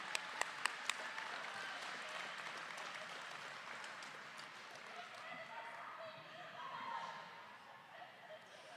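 Crowd applause for a player at a Philly Brawl Stars versus Crooked River game, a broad steady wash of clapping that runs throughout, with a few sharp taps near the start and voices mixed in.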